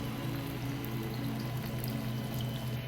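During a waterfall head spa treatment in a Manila salon, water pours in a steady, continuous stream. It sounds like a soft, even rush close by, with no voices.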